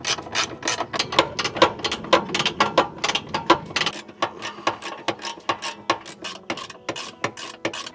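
A ratchet with a deep socket loosening cross member bushing bolts under a vehicle: rapid, close metallic clicking in quick irregular bursts, dense at first, then sparser individual clicks.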